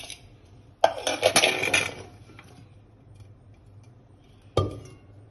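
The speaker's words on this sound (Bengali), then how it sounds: "এই আমটাকে আমি একটা বাটির মধ্যে ঢেলে নেব" Mango pieces tip into a bowl in a sudden clattering rush lasting about a second, followed after a pause by one more short knock; a quiet kitchen otherwise.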